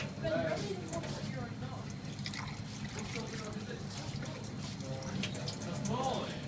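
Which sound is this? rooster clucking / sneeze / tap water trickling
tap water trickling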